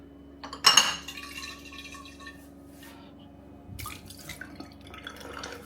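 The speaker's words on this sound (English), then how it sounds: "I'm just going to slush it around, empty them out" Sanitiser rinse sloshed around inside glass homebrew bottles and poured out, giving a brief splashing burst, scattered drips and light glass clinks at moderate closeness, fading to a quieter trickle.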